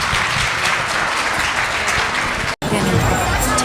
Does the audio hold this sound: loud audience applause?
yes